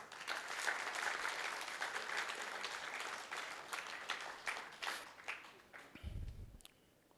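Sustained applause from a lecture audience, steady and dense for several seconds before thinning out, with a brief low rumble near the end.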